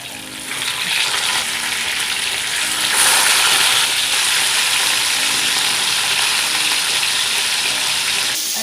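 Tuna fries in a pan over medium heat with a steady, loud sizzle and crackle of hot oil that rises slightly midway and continues unbroken, with no talking.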